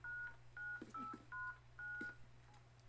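Touch-tone keypad beeps as a phone number is dialed in a video game, a handful of short clear tones in uneven succession over a steady low background hum.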